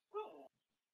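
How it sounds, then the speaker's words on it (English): A dog whining and barking somewhere in a room, one short faint yelp-like bark with a whining edge, heard once and then quiet. "I apologize if people can hear my dog trying to speak in the background"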